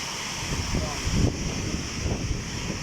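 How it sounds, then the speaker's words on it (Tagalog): Strong gusting wind of Storm Darragh in Wales, roaring loudly against the microphone with a cold, heavy, continuous buffeting that swells in a few stronger gusts. "Pag ganito kalakas ang hangin, hindi ako sigurado kung kaya ito ng ating patsero."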